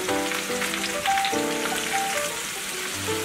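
Canned mushrooms sizzle in a hot pan, a close, continuous crackling hiss like light rain, with tonal ringing notes in the background and no talking.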